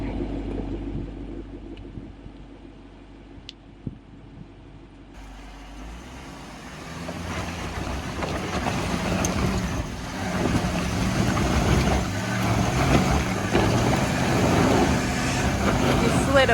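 A Jeep Grand Cherokee WK2 engine labors up a rocky off-road ridge on an ORV trail, a steady low rumble swelling louder after the first few seconds, with people talking over it.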